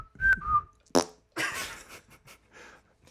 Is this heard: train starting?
no